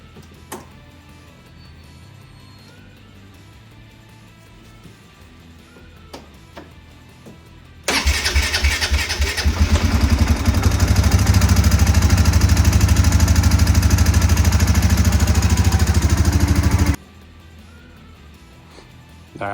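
A Polaris Ace side-by-side with a fuel pump problem starts up abruptly and runs with a loud, steady, close engine drone for about nine seconds, then cuts off. Quiet background noise surrounds the run.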